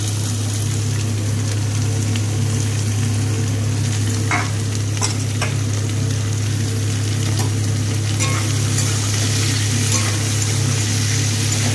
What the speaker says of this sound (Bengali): বিনস, সমস্ত সবজি একসাথে দিয়ে দেব, দিয়ে একসাথে ভেজে নেব।